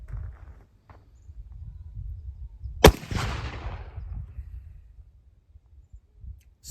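A single sharp, loud report from a black powder gun loaded with 25 grains of low-sulfur powder, card and felt wads and a 250-grain projectile, followed by a rumbling decay over low outdoor background noise.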